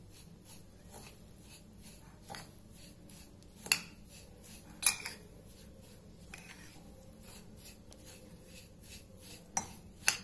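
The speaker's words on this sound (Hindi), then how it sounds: "इसको अच्छे से मिक्स करेंगे।" A spoon stirs sooji handvo batter in a bowl, giving soft scraping sounds broken by a few sharp clinks against the bowl, fairly quiet and close with no talking.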